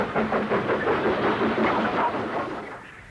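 A steam train from a private collection in Somerset runs steadily, its rhythmic clickety-clack and chuffing hiss rolling close and continuous before easing off slightly at the end.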